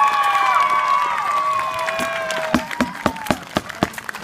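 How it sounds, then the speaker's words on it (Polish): An audience applauds a knight fighter after a bout. Cheering voices come first, then a handful of distinct claps ring out under a low crowd murmur. "Oklaski dla rycerza po mojej prawej stronie"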